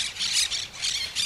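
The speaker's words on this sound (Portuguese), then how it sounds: "Muitos pássaros, que lugar lindo" Birds squawk outdoors on a sunny day at a castle and hot springs site, several shrill calls rising and falling in quick bursts, moderately loud with no talk.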